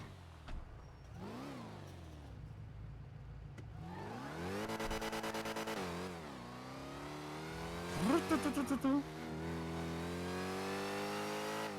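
A car in the GTA roleplay game on a NoPixel server revs and accelerates repeatedly, its engine pitch climbing and falling in sweeping runs, with a few sharp sputtering pops near the end.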